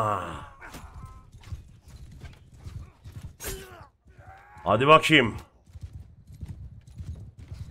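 A donkey ridden as a horse in Bannerlord clip-clops at a walking pace, a steady run of light hoof taps under a voice speaking Turkish, with a louder burst of speech partway through.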